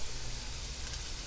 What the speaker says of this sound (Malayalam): ഇനി നമുക്ക് അതിലോട്ട് ഉള്ളി ഇട്ട് കൊടുക്കാം